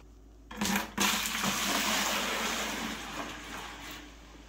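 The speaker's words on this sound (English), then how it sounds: "we're gonna fill up our 5-gallon bucket halfway with warm water." Water gushes into a 5-gallon bucket after a brief clunk, warm water filling it halfway in a steady rushing pour that continues at an even level throughout.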